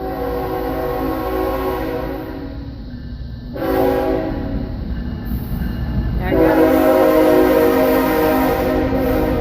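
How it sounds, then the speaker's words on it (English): A train rumbles past at close range while its horn blasts in long, loud, sustained tones, broken by short pauses. "And we do have a train coming."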